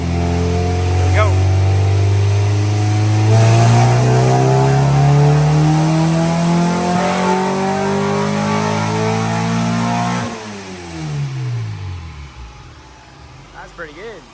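Engine of a father-and-son project vehicle built over five years revs hard at high RPM, a loud rising roar that climbs steadily, then drops off as the throttle lifts near the end.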